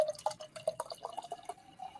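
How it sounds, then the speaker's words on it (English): Citrus-flavored seltzer water is poured into a drink, giving a close, irregular run of splashing drips and bubbly plinks that gradually thin out toward the end. "we're adding some citrus flavored seltzer water"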